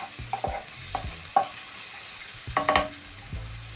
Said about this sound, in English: Stir in the onions into the cooking oil.